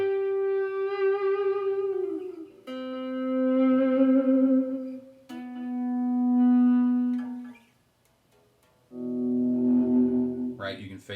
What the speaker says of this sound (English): I'll take this delay and reverb and just dial it up